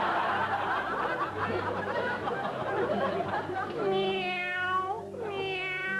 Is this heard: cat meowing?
yes